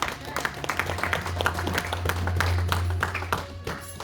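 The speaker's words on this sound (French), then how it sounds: "Acclamons très fort le Seigneur." Church congregation clapping and applauding in praise, a short dense burst of many hands clapping close by over a sustained low organ-like tone.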